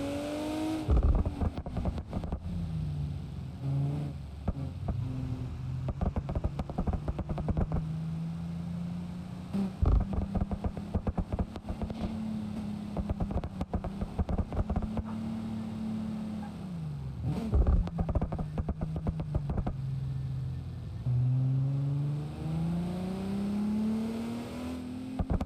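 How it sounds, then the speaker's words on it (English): A racing car engine in BeamNG.drive, likely a Toyota Supra, drones and revs continuously, pitch rising and dropping through gear changes, with sharp exhaust crackles and pops throughout, exhaust volume turned down. "it's normally a lot louder, but I kept the exhaust volume in tuning turned down a bit"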